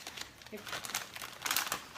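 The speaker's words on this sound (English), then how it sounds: "each of our little bags has this nice little tear hole right here, so you don't even need scissors" A food pouch is torn open by hand at its tear notch, with crinkling plastic and a short ripping sound, close and fairly loud, over faint voice.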